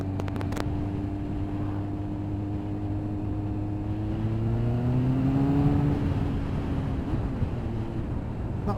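A Kawasaki ZX9R motorcycle with a newly changed end can revs steadily, its engine note rising through the middle of the run and then easing back, close and continuous with no talking.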